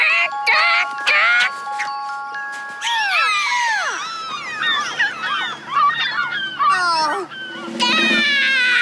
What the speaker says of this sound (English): Here's what a hawk sounds like.